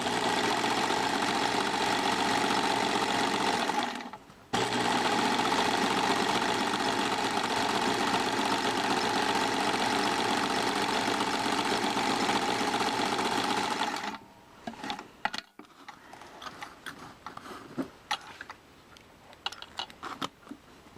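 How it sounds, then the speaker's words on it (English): A sewing machine runs a long, steady stitching burst while topstitching a mock rolled hem on fabric, with a short pause near the start, then stopping into quieter handling noises. "go ahead and do the stitching on the top like we did last time"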